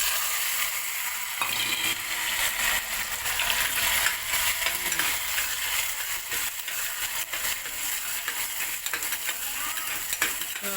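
Cumin seeds and asafoetida sizzle in hot oil, a bright, continuous crackling hiss that holds steady throughout, with occasional scraping and stirring sounds close by.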